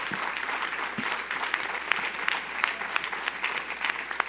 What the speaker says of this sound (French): Je pense qu'on peut encore une fois vous applaudir très fort